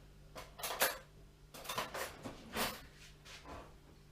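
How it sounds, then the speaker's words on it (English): Kitchen utensils clatter as a spoon is picked out from among them, a few close metallic clinks and scraping rattles in short bursts with quiet gaps between. "I think I'll get a spoon"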